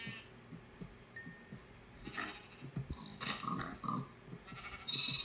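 Sheep bleating in the video game Minecraft, several short bleats at moderate distance over quiet game ambience, with a louder cluster near the end.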